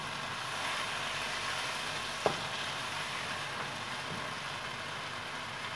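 Chopped tomatoes fry in a pan with a steady, even sizzle throughout, close and moderately loud, with one brief utensil tap partway through and no talking.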